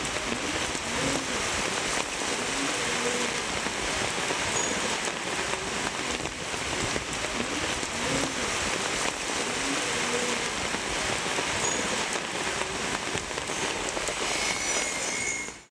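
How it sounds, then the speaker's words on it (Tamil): Heavy summer downpour in Thanjavur district, Tamil Nadu, pounding steadily on roofs and roads as a dense, unbroken hiss with scattered drop patter, loud and constant throughout. "தஞ்சை மாவட்டத்தில் 2 மணி நேரத்திற்கும் மேலாக மழை கொட்டியது."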